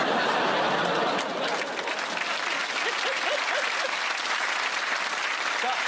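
Applause from a comedy panel show's studio audience fills the room, loud and continuous, with a few chuckles and murmurs of chatter threaded through the clapping.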